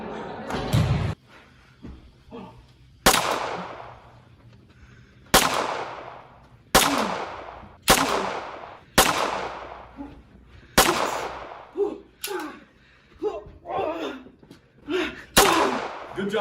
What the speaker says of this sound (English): Instead of shooting baskets in their physical education class, they'll be shooting targets.